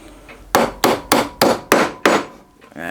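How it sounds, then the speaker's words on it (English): Six evenly spaced taps drive a glued wooden plug into a hole while restoring a Stuart Turner piston water pump, each a crisp close knock with a short ring, steady rhythm, no talk. "Place in the hole like so, and gently tap into place."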